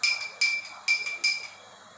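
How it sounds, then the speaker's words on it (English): A spoon stirs sugar into lemon sharbat in a glass, clinking against the sides four times in a slow, even rhythm, close and fairly quiet. "We'll mix it well till the sugar dissolves"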